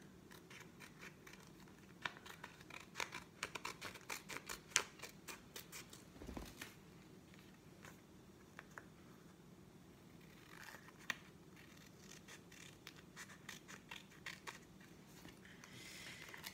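Scissors snip around a Dior material sample during a DIY shelf project, giving faint, close, irregular cutting and scratching sounds with scattered sharp clicks.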